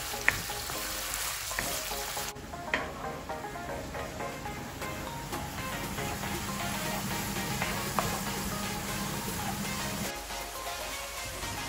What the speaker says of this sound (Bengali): আমার অনিয়ন ফ্রাই হয়ে গেছে